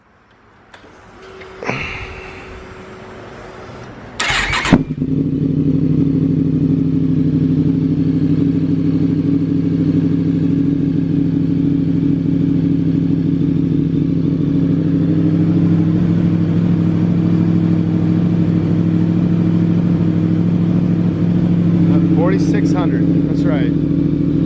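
A 2023 Yamaha MT-10 motorcycle with an M4 exhaust and tune fires up after a brief click and clatter, then settles into a loud, steady, rumbling idle, with a short voice near the start.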